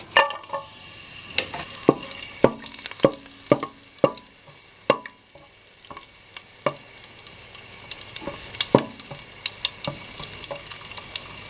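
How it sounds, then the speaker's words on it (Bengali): Whole spices (cardamom, bay leaf and cinnamon pieces) sizzle in hot oil with a soft continuous fry, broken by sharp crackling pops and clicks scattered irregularly throughout, close and clear with no voices. "এখন আমরা দিয়ে দিব গরম মশলাগুলো, এলাচ, তেজপাতা, দারুচিনির টুকরো।"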